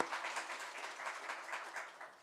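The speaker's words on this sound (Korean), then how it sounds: "하나님께 영광의 박수 올려드리겠습니다." A church congregation applauds during a Korean Sunday worship service, a dense, even patter of many hands clapping continuously at close-to-moderate distance for the whole short stretch.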